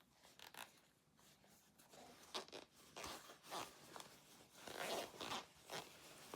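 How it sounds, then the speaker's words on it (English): A zipper on a fabric diaper pouch is pulled open in several short, scratchy bursts, close and clear, with brief pauses between pulls and no talking. "this zipper you're going to go ahead and open up"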